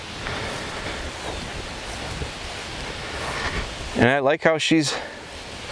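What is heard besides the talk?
wind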